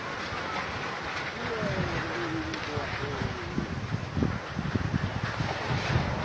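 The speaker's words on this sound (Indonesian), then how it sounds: "Angin weh. Bahaya temen nih." Strong storm wind in Magelang during a rainstorm, a steady roaring rush that swells in gusts, with voices talking over it.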